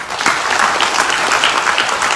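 A crowd applauds loudly at an outdoor Azadi March stage event in Delhi, giving a continuous, lively burst of clapping with small rhythmic swells and no talking over it.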